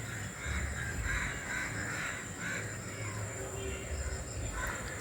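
Several crows caw repeatedly at dusk as they settle toward their nests, moderately distant calls overlapping in loose bursts above a low rumbling outdoor background.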